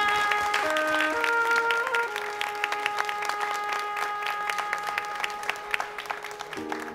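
A studio audience applauds at a televised children's singing audition final, a steady spread of clapping with sustained musical tones ringing over it, the clapping trailing off into sparser claps near the end.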